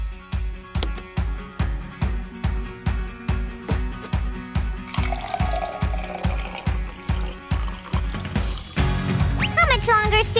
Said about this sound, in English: Sue, just pour me something.